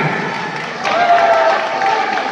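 Audience clapping at a sports competition prize event, a dense crowd of claps with a brief tonal whistle-like sound partway through, fairly loud and close.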